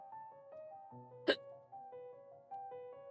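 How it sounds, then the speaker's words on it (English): A single sharp, sudden hiccup pops out close to the microphone during a quiet drawing session, standing out briefly over soft, steady background music. "Why do I have hiccups?"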